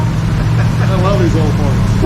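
Engine of an old Studebaker car running, a steady low rumbling idle close by with a voice speaking over it.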